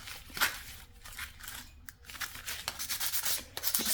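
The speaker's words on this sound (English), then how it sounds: "I'm going to take a piece of sandpaper and scuff it up," Sandpaper scuffing a handle after cleaning with vinegar, close rasping strokes in an uneven rhythm, some short and some longer, with brief pauses between them.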